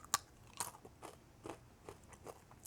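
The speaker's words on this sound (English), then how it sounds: "Look at how crunchy they are." Someone bites and chews extra crispy homemade keto crackers up close. Two sharp snaps are followed by a run of softer rhythmic crunches.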